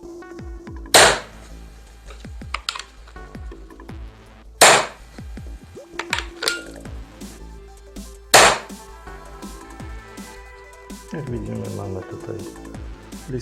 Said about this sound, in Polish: Sprawdzimy sobie jak strzela i później również z tego śrutu strzelimy do tarczy.